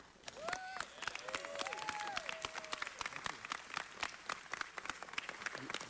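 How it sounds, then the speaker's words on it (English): Applause at a city council meeting honoring the city's poet laureate: a steady, dense round of clapping from the chamber, with a few brief voices calling out over it. "I think Luis deserves a huge round of applause"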